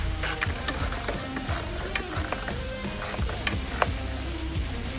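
Hand ratchet loosening bolts on the intake tube and air box of a 2011-16 Ford Powerstroke 6.7L diesel, rapid close clicking in quick repeated bursts, alone with no talk.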